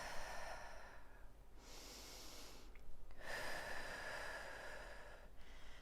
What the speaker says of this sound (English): deep breaths here.